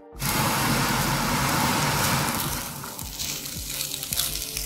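Garlic and onions frying in a pan, a loud steady sizzle that starts abruptly and continues with crackling, gradually easing slightly while stirring clatter comes through underneath.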